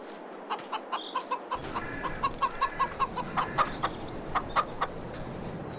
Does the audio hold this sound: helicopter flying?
no